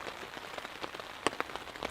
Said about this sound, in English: It is now raining out there.